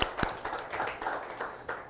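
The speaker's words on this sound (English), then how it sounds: "Let's give that a round of applause." An audience applauds at a talk about compassion and healing, with a burst of claps near the start followed by light, steady clapping throughout. No one speaks over it.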